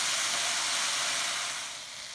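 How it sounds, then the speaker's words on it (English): Lotus root sautéing in a pan with sake and sugar, a loud, steady sizzling hiss as the liquid boils off, easing slightly toward the end with no voices. "you saute until the sake and the sugars are all mixed and evaporate"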